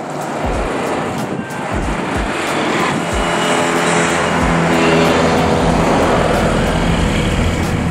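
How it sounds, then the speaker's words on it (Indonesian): A project truck grinds down the curve at Kelok 18 on the JJLS road near Parangtritis. Its loud, steady engine rumble mixes with heavy wind noise and stays close throughout, with no talk. "Terlihat ada truk proyek yang sedang menurunin"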